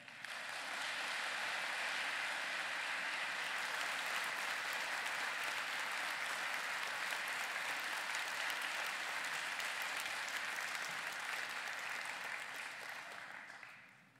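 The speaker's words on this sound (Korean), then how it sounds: "우리 나오실 때 뜨거운 박수로 맞아주시길 바랍니다." A church congregation at an evening prayer revival service welcomes a visiting pastor with long, dense, sustained clapping that stays level for about thirteen seconds before tapering off at the end.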